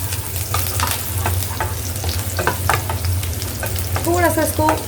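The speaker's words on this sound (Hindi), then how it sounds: "गार्लिक और हरी मिर्च. सॉटे कर लेंगे ताकि गार्लिक का अच्छा सा फ्लेवर आ जाए" Garlic and green chili sautéing in a pan, a steady close sizzle and frying crackle with scattered stirring clicks throughout, without speech.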